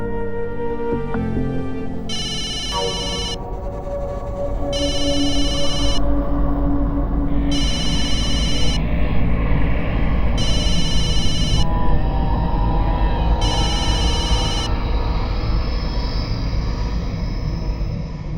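A telephone rings indoors in a domestic scene from a Hindi TV drama, its bright electronic tone repeating in about six evenly spaced bursts over a steady low background hum and music, with no speech.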